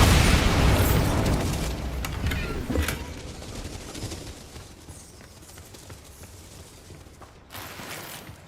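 A Bombarda blast spell in Hogwarts Legacy bursts loudly at the start and fades into a long rumbling decay. A few smaller thuds and clatters follow, with another sharp hit near the end.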